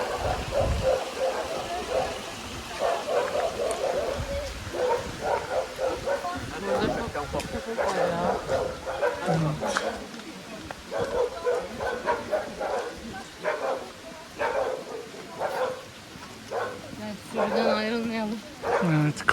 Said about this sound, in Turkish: Köpekler kudurdu.